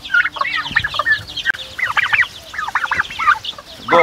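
Chickens and young chicks in a rural yard cluck and cheep in quick overlapping bursts, close and fairly loud, with a few deeper fowl calls mixed in.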